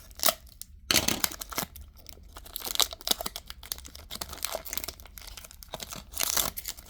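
Foil trading card pack wrappers crinkle and tear by hand in a steady stream of crackling rips and rustles, close up, with no talking.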